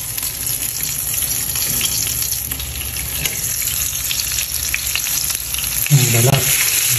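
Field frog skin fries in a pan with a steady loud sizzle and crackle throughout, punctuated by occasional scraping stirs and a short clatter near the end, with no talking.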